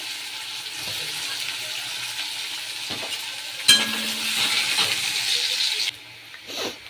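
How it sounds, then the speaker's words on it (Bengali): Onions frying in a pan give a steady broadband sizzle throughout, with a few clinks and stirring knocks partway through and a brief drop in level near the end. "এখানে পেঁয়াজটা ভাজবো।"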